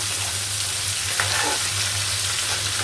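Taro stolons and dried lotiya fish frying in a pan while being stirred, a steady close sizzle with faint scraping of the spoon, with no voices.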